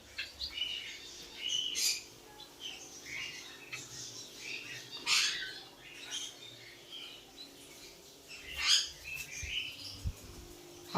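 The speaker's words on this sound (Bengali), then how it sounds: "নিচেও এক পেয়ার বদ্রি আছে।" Budgerigars in a 2x2 cage chirp in scattered short, bright bursts against a quiet background, with a few louder calls spaced a few seconds apart.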